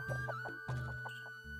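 Chickens cluck in a quick, rhythmic series of close, clear calls over a steady background tone, with a brief pause midway before the clucking resumes.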